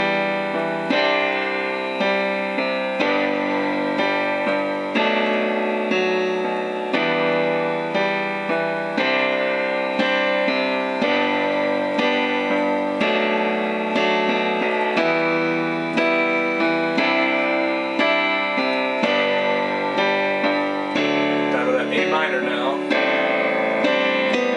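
Solo piano plays the verse of a song: steady chords and a melody line with a regular, even rhythm throughout, close and clear, with no voice.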